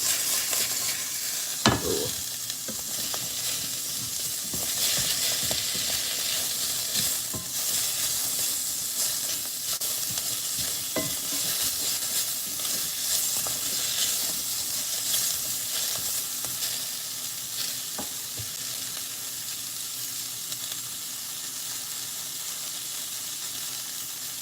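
Beef for fajitas sizzles in a hot skillet, a constant bright frying hiss with occasional stirring scrapes and sharp pops, steady and close throughout, with no voices.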